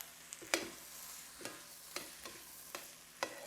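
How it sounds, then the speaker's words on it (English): Tomato paste sautéing in a pot, a soft steady sizzle broken by several distinct clicks and scrapes of a spoon stirring against the pot, fairly quiet and close. "saute the paste for a couple of minutes"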